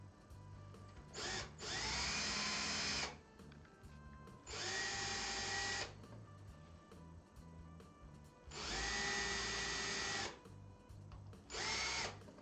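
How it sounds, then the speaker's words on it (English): Power drill running a countersink bit during hardware assembly, with four whirring bursts of a few seconds each separated by short pauses, close and clear with no talk. "Get myself a good countersink here."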